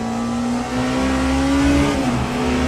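A Porsche race car in a sim racing sprint at Qatar holds a steady, loud engine drone near the final turn, its pitch rising gradually before easing slightly, with no talk over it.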